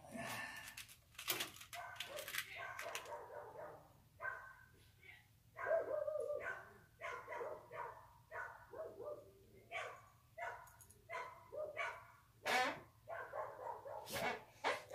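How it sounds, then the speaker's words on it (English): A neighbor's dog barks repeatedly outdoors in short bursts, near and fairly loud, with people talking at times and a low steady hum underneath. "Our neighbor's dog was chasing a lady down the road."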